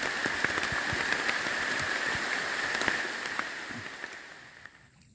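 Steady rain patters on a surface in a forest with scattered drops, a continuous wash of hiss that fades slightly near the end.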